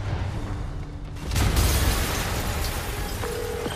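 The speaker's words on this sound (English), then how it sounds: "Yuri, an explosion just..." An explosion in the Spider-Man Remastered video game breaks out partway through as a sudden heavy boom. A rumbling, crackling roar follows and holds steady until the end, with no voices.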